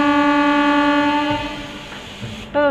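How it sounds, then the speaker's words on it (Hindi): A MEMU train on the Ramtek to Itwari run sounds a long, steady horn with strong harmonic tones that fades slightly, then a brief second blast near the end, over low rumble. "आज हम मेमू ट्रेन में सफ़र कर रहे हैं रामटेक से इतवारी तक"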